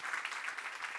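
A live science summit audience applauding for lab pitches, a steady wash of claps at moderate-to-faint volume lasting about a second, with no voices.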